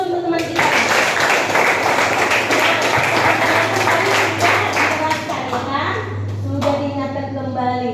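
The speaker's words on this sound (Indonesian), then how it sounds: "Berikan aplaus untuk teman kita." A classroom of students applauds a classmate, a dense burst of clapping lasting several seconds, with children's voices mixed in under it and a hum running low beneath.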